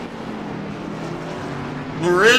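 A race car droning around a track in a steady engine note, growing louder with a rising whine at the end, while a commentator talks over it.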